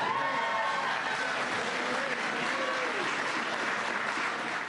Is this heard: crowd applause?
yes